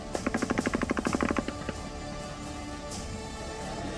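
Gunfire at Kabul airport amid a fleeing crowd, a rapid burst of about fifteen evenly spaced shots lasting over a second, then stops, under a steady noisy background.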